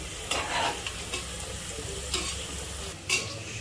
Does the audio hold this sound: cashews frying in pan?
yes